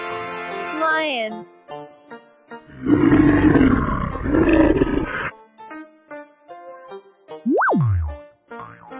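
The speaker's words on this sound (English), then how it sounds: "Lion." Toy animal sound of a lion roaring, loud and close, a long growling roar between bright cartoonish tones and a rising boing-like sweep near the end.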